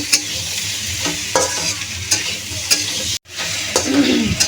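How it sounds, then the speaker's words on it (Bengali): Cauliflower and chopped tomato frying and being stirred in a pan, a steady close sizzle with repeated scraping strokes of a spatula, one brief gap near the end before the sizzling resumes louder. "ভালো করে আবার একটু ভাজা ভাজা করে নেব।"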